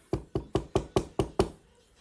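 Seven sharp knocks on a wooden surface in an even, quick rhythm, close and clear, with nothing else heard.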